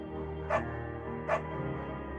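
A beagle barks twice in the video game Firewatch, two short separate barks over a steady low musical drone.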